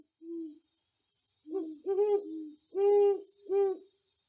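A deep barred owl hooting in a rhythmic series of rounded calls, the last few louder and drawn out, close and clear against a quiet background.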